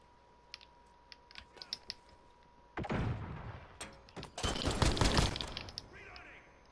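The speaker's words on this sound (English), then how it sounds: "I hit him with my flash grenade. Direct impact?" A flash grenade strikes a player in Modern Warfare, giving a sudden loud burst followed by a second harsh, noisy blast. Faint clicks and taps come before it, along with light talk.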